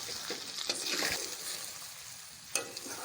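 Okra (bhindi) frying in a pan for a ladyfinger and mutton curry, a steady broadband sizzle with stirring scrapes and a sharp clatter near the end, moderately close with no talking.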